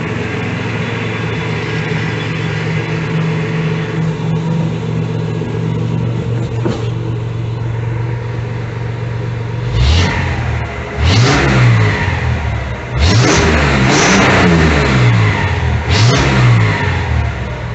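A car engine, just back from fuel return system work to cure carburetor boil from ethanol gas, idles steadily up close, then revs hard in several sharp bursts that rise and fall.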